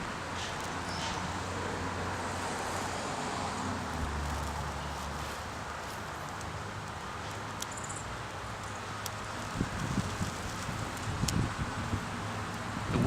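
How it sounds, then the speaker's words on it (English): Steady outdoor wind gusting around a pine fire being lit, a continuous broadband rush with low rumbling buffets and a few faint crackles and knocks toward the end, no talking. "The wind's not helping our process,"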